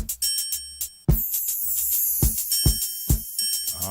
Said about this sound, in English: here's a chime